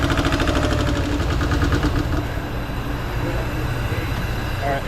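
A Toyota 3.3 V6 idles close by with a rapid, steady knocking tick riding over the engine's rumble, loud and continuous throughout, just after a timing belt replacement.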